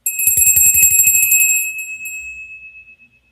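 A single bright bell strike rings out clearly, then its metallic tone lingers and slowly fades over a few seconds.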